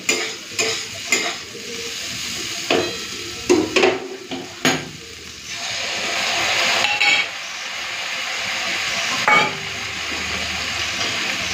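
Fried bitter gourd and potato with mustard paste and a splash of water are stirred in a pan. A spoon scrapes and clinks several times early on, then a steady sizzle carries on beneath.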